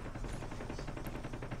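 Rapid automatic gunfire from the Pharo rifle in Call of Duty, a steady fast stream of shots, close and loud, with no talking.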